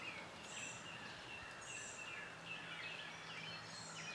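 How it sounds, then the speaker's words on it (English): Birds sing in morning woods near a small canoe and kayak boat launch, faint scattered chirps and calls repeating at a distance over a quiet background hum. "Hope y'all can hear all the birds and everything"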